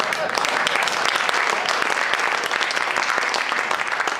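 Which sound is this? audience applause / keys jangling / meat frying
audience applause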